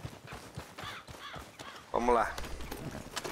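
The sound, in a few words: horse hooves approaching, Red Dead Redemption 2 Online video game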